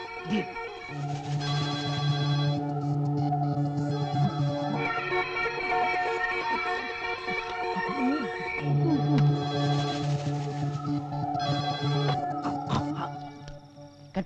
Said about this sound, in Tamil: டேய் ஃபோன் அடிக்குதுடா அது எஸ்டி ஐஎஸ்டி கால் மாதிரி தான் இருக்கு